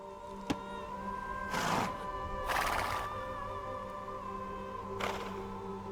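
A Scout Cavalry horse in Age of Empires II: Definitive Edition whinnies in three distinct bursts, near and fairly loud, over steady game music, with a sharp click near the start.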